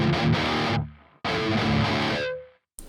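Electric guitar through the Neural DSP Archetype Nolly Modern Misery preset plays two heavily distorted chugging bursts, loud and close, each cut off sharply, the second fading into silence.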